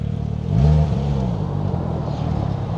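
A truck passes by nearby, its low engine rumble swelling loudly near the start and then holding as a steady drone through the rest of the moment, with no talking.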